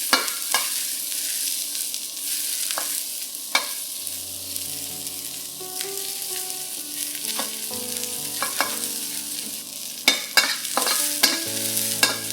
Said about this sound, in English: Fry these onions and chilies till they are fragrant.